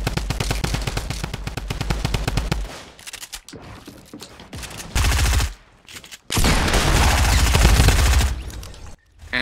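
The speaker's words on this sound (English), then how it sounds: "And just by hearing those gunshots" Automatic gunfire in a Fortnite match, loud and close: long rapid machine-gun bursts and scattered single shots separated by short gaps, with more sustained firing near the end.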